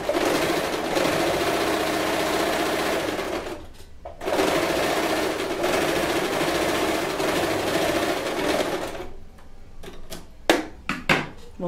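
An Elgin Genius sewing machine stitches fabric in two long steady whirring runs with a short pause between, then stops, followed by a few sharp clicks and knocks close by.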